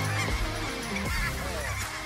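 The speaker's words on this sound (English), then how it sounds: "chasing big feeds of Ross geese across the prairies of Saskatchewan" Loud, dense honking from a large flock of Ross's geese on the Saskatchewan prairies, many overlapping calls at once, close and continuous with no talking.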